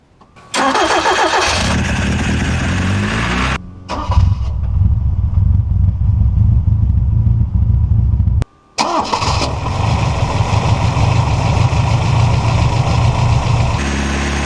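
A 1971 Toyota Celica TA22 engine cranks and catches with a strong start, then settles into a steady, loud idle close by. The idle breaks off briefly before resuming.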